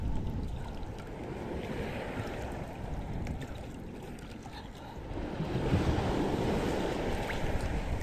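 Shallow sea waves rolling near a small boat during crab fishing, a continuous rushing surf with wind noise that swells louder in the second half, no speech heard.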